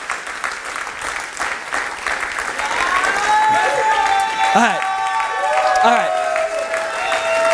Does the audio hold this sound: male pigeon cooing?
no